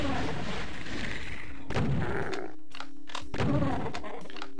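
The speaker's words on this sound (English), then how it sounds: "so we're just going to throw some rockets at them." Rockets fired at demons in the video game Doom, with heavy booming launches and explosions arriving in several bursts over a loud, roaring game soundscape.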